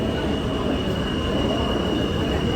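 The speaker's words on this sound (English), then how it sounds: "This is the last train, which is the most crowded." A crowded last train runs with wheels squealing, a loud continuous rumble of rail noise under a sustained high metallic squeal, close and unbroken throughout.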